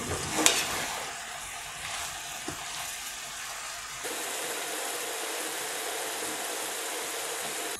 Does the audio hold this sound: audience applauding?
no